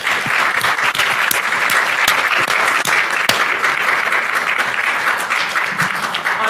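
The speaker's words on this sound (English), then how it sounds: "So can we just have another round of applause for everyone?" A room full of people at a startup final pitch event claps in a sustained, even round of applause, with occasional sharper individual claps standing out from the steady wash.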